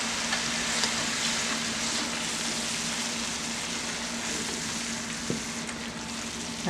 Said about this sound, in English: I've had it frying